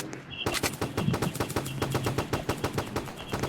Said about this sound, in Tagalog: Ang daming pumuputok sa akin na bala.